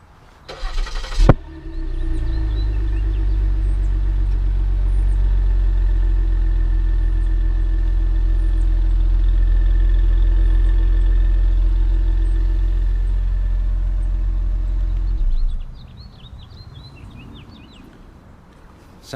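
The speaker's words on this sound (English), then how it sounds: "Sounds good from the twin turbo V6." A 2016 Ford Taurus SHO with a 3.5L twin turbo EcoBoost V6 starts by remote with a brief crank and flare, then settles into a loud, steady low idle that holds before cutting off; faint birdsong sits in the background.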